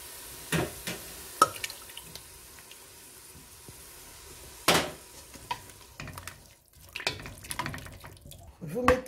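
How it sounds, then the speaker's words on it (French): Glasses of water tipped into a pan of tomato sauce seasoned with garlic and thyme, with close splashing bursts, drips and a faint sizzle alongside occasional talking. "J'ai mis 2 verres d'eau comme ça dans la préparation."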